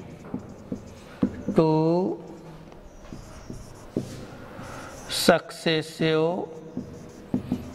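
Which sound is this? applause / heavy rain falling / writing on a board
writing on a board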